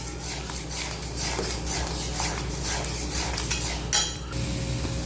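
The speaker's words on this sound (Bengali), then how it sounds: "রুই মাছ লবণ হলুদ লাউর পাতার পেস্ট একসঙ্গে ভালো করে ঘুটে নিচ্ছি" Fried rohu fish is mixed with salt, turmeric and bottle gourd leaf paste in a pan, giving continuous scraping and rubbing of a utensil with occasional metallic clinks against the cookware.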